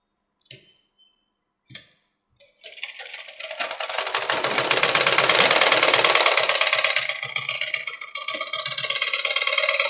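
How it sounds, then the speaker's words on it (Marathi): A sewing machine runs a continuous double line of stitching on a princess-cut blouse, preceded by a few sharp clicks and short starts, then a steady loud whir that eases slightly toward the end. "डबल शिलाई देऊन घ्यायची."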